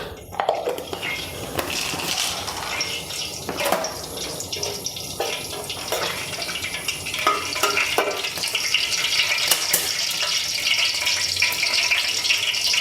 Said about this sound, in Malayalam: ഇതിലേക്ക് നമുക്ക് ഒരു അഞ്ചാറ് കറയമ്പ് മൂന്നാല് ഏലക്ക ഇത്തിരി ജാതിപത്രി രണ്ട് കഷ്ണം പട്ട ഒരു കഷ്ണം തക്കോലം ഇതെല്ലാം ഒന്നിട്ട് നമുക്കൊന്ന് പൊട്ടിക്കാം